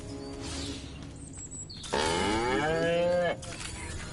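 In Destroy All Humans, a cow lets out a single long, loud moo that bends in pitch, heard close, with quieter ambient game sounds before and after it.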